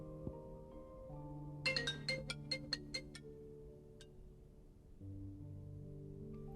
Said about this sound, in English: I love when your phone rings for like 2 seconds and then just stops.